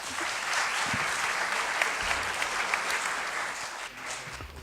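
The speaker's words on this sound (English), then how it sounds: "please give the panel a round of applause." Conference audience applauding a panel discussion, steady dense clapping filling the room for several seconds without a break, close and fairly loud.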